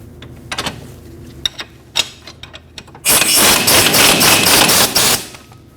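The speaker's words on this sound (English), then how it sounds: "Now you're ready to torque your bolts." Torque wrench tightening rear knuckle bolts on a Jeep Cherokee: several sharp metallic knocks and clicks, then a loud sustained rattling burst lasting a couple of seconds, close up, no talk.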